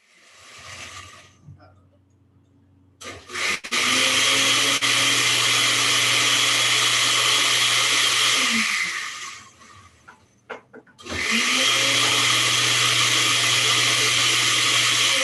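Countertop blender running during a home cooking session, a loud steady whir that stops briefly, sputters back on and then runs strongly again, drowning out everything else.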